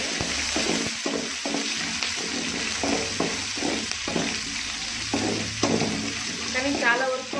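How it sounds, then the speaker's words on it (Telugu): Sliced onions frying until brown in a pan, a steady loud sizzle broken by repeated scraping stirs, with a faint voice now and then under the cooking noise. "ఆనియన్స్ అనేది కొంచెం బ్రౌన్గానే వేయించుకుంటాను"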